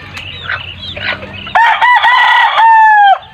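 A rooster crows close by, a loud drawn-out call in the second half, preceded by softer clucking and faint chatter of other birds.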